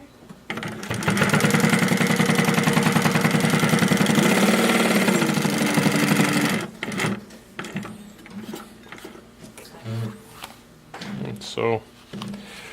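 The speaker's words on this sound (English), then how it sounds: "I just have some nice soft leather here I'm going to sew. Quickly sew this together, see how it looks." A TN-1508NH extra heavy walking foot sewing machine stitches soft leather with a loud, fast, steady mechanical chatter for about six seconds, then stops, and someone talks over light handling noises.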